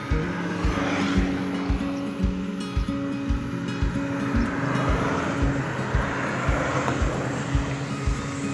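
An airplane takes off in the distance, heard from a motorcycle. Its engine drone is steady and faint, mixed with wind buffeting and a regular low ticking from the motorcycle, with no voices.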